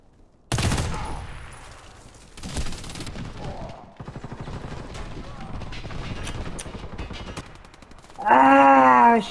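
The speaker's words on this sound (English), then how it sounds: "Ah, I was shooting at him" Gunfire and explosive bursts in a first-person shooter video game, with loud sharp bursts and mechanical clatter, a stretch of rapid repeated shots, and a louder burst at the end, players' voices faintly underneath.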